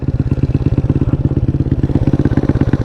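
A rebuilt Honda Ruckus scooter's small engine runs loud and close while being ridden, a steady fast-pulsing putter with a rough, throbbing beat and no voices.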